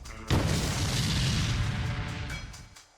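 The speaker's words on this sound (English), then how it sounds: "The powerful explosion left the Buk-M2 unusable" An FPV drone strike explosion hits a Buk-M2 air defense system, a sudden loud boom followed by a broad rumbling roar that lingers and fades over about three seconds.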